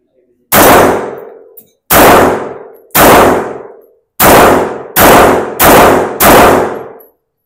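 Seven sharp, loud Walther PD380 pistol shots ring out close by, each with a ringing decay, spaced irregularly with a brief pause before a quicker final cluster.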